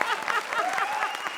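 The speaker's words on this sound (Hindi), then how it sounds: "ये है तालियों का ऑडियो।" Recorded applause played back as a brief burst of clapping, loud and fairly dense, lasting barely over a second.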